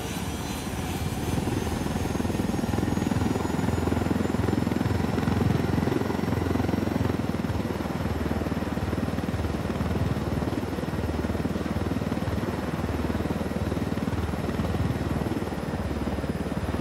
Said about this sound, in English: We can leave the chopper here and the rebels will pick it up.